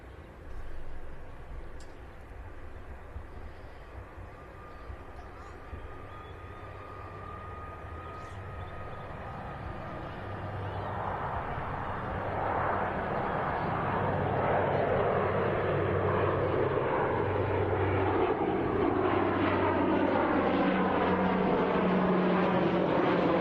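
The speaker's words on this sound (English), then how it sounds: "Brussels Airlines in the Star Alliance livery. The A319 has had a 40-minute flight." Brussels Airlines Airbus A319 airliner in Star Alliance livery arriving at Birmingham Airport: a distant jet roar that swells steadily and grows loud and close toward the end, with a broad engine rumble and a shifting whine.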